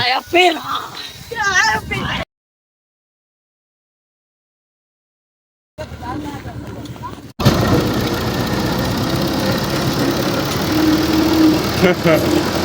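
A tractor hauling a trolley loaded with sesame runs with a steady, loud engine drone in the second half, after a stretch of talking that is cut off by a short silent gap.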